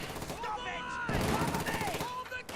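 MG34 machine gun fire in a video game battle as charging Fallschirmjäger and Obersoldaten come under fire. Sustained bursts rattle through the whole stretch beneath a commentator's steady talk.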